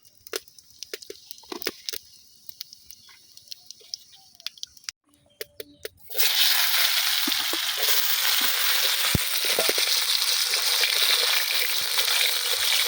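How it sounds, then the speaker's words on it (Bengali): Potatoes frying in hot fish oil with cumin seeds, a loud, steady sizzle that starts abruptly partway through and continues without letup after a quieter stretch of faint clinks and handling noises. "আলুটা একটু ভেজে নেব।"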